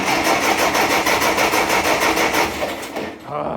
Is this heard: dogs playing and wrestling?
no